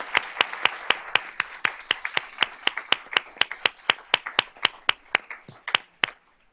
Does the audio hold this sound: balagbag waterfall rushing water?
no